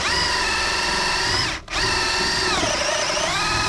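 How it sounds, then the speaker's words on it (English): A power drill whirs loudly and steadily, stops for a moment, then starts again and its pitch sags as it bites into material. "So I probably have to drill another hole"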